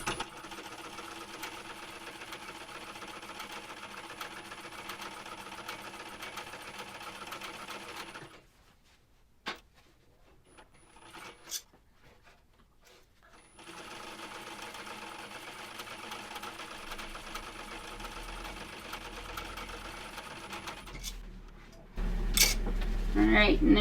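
A sewing machine topstitches a fabric shoulder bag, running in a long steady whir, stopping briefly, then starting again for another long stretch, with a louder handling noise at the end.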